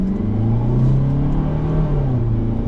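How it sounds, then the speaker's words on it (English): 2024 Hyundai Santa Cruz SEL AWD with a turbocharged four-cylinder engine accelerating on the road, a steady close droning rumble that rises slightly in pitch under load, with no talking. "Little noisy under load, but it is a turbo 4."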